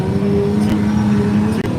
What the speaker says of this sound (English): Love how Adam's car sounds.